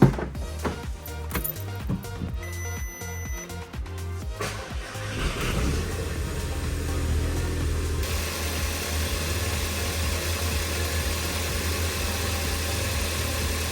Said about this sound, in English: then we can start the car and see how much of a difference this has made